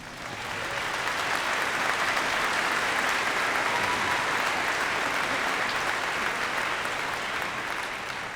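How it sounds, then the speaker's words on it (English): Sustained applause from a graduation ceremony audience at Eastridge High School for the school's band and orchestra, a dense, steady wash of clapping that swells in and holds evenly throughout. "Could we please give them a round of applause?"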